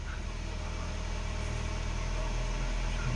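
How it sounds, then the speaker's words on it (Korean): A quiet, even Volkswagen Passat engine idle drones at a low pitch, a soft steady hum with faint broadband hiss and no other sounds. "엔진 소리 아주 정숙합니다."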